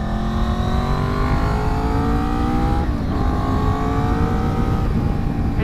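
A Honda VFR 800 motorcycle engine hums steadily while riding, with its pitch rising and falling through gear changes under constant wind rush, loud and close.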